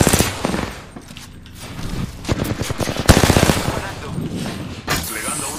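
Rapid automatic gunfire from the battle-royale game Apex Legends crackles in dense bursts across the clip, loud and close, with a pause in the middle before heavy firing returns, while players talk over it.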